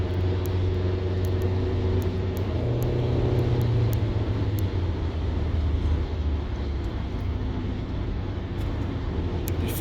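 A 1993 Chevrolet Camaro Z28 highway patrol police car driving, a continuous low engine and road rumble with a steady drone, heard from inside or close behind another moving vehicle, no talking.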